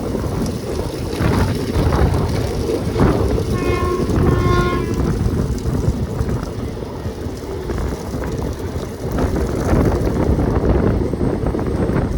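A sleeper class train rolls into Nagercoil town station with a loud, continuous rumble and wind buffeting close by, and a brief horn-like tone sounds partway through.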